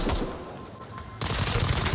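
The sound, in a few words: gunfire in video game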